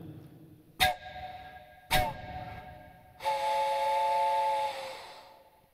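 A steam whistle gives two short sharp blasts, then a longer sustained hiss and whistle of venting steam that holds for about a second and a half before cutting off, heard alone in a quiet room.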